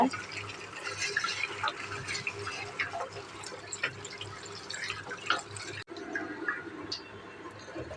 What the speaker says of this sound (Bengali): কাটা হয়ে গেছে শাকগুলো এখন হচ্ছে ভালো করে ধুয়ে নেব